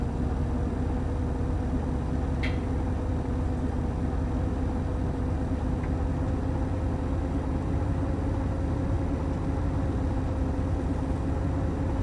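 A Boeing 747-8F jet engine spooling up during start in X-Plane 12, a steady low droning rumble with a faint whine, constant and moderately loud, with one brief high tick and no voices.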